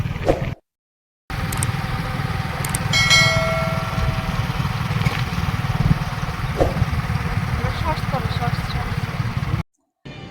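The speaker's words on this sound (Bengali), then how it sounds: "আজকে একটু বেরিয়েছি বাইক চালানোর জন্য" A motorcycle being ridden on a highway, its engine droning steadily under wind rumble for most of the stretch, with short dropouts at the start and end.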